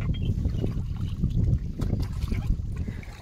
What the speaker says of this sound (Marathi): ते सागर आणि काका होडी चालवत आहेत